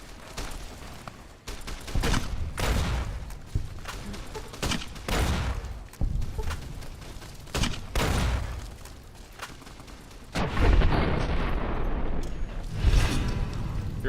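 Gunfire from the companion Boone in Fallout New Vegas: several loud, sharp bursts of shots and booms spread across the stretch, with a heavier blast near the end.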